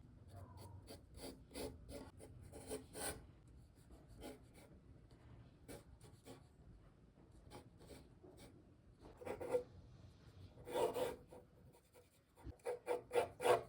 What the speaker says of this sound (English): It's time to focus on the line drawing.